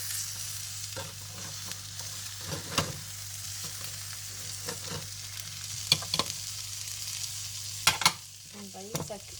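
Frozen food sizzles and fries on a small tabletop barbecue appliance, a steady close hiss with scattered sharp crackles and pops and occasional scraping stirs, no voices.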